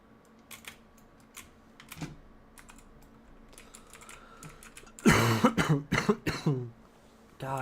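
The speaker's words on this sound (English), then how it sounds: "I'm sorry about my cough." A person coughs in a harsh cluster of several bursts near the microphone after a run of light computer keyboard typing and clicks.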